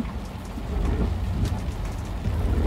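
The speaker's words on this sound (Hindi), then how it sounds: "बारिश हो रही है" Heavy rain pours steadily over the McLeod Ganj market in Dharamshala, a dense, continuous hiss of drops on nearby surfaces, loud and unbroken, with no voices.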